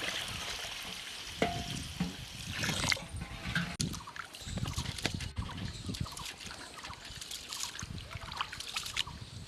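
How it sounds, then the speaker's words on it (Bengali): Rice for a chicken dum biryani is rubbed and washed by hand in water, giving close sloshing, swishing and gritty rubbing with occasional splashes and knocks against the bowl, and no speech. "ডলে ডলে ধুয়ে 2 থেকে 3 বার ধুতে হবে চাউলটা"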